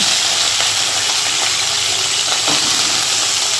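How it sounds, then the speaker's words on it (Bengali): Green chilies frying in a pan with oil: a loud, continuous sizzle and hiss, close and steady with no break. "লঙ্কাটাও মোটামুটি ভাজা ভাজা হয়ে গেছে"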